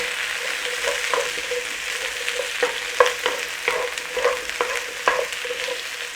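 Peppers and onions sizzle in a hot pan for a black bean sauce dish, a steady frying hiss broken by a few spatula scrapes and stirring knocks, close and fairly loud, with no speech.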